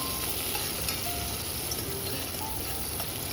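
Ingredients frying and being stirred in a pan while cooking a lunch box dish, giving a steady close sizzle with faint stirring scrapes throughout.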